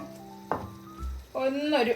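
Gravy for palak paneer sizzles and bubbles in a hot pan as fried paneer is added, with a brief stir and a low thump partway through, the frying sound swelling louder toward the end.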